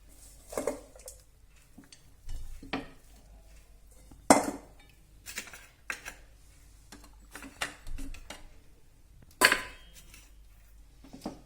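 Bhel is spooned from a pan into a serving dish, giving scattered metallic clinks and scrapes of cutlery against cookware at irregular intervals, close and fairly quiet with silence between strikes.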